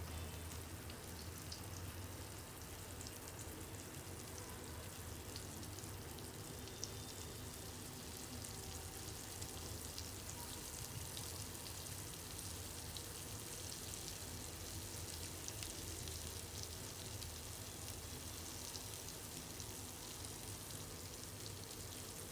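Pieces of halwa (pomfret) fish frying in oil on a flat pan, a dense, even crackling sizzle that holds steady throughout, close up with no voices.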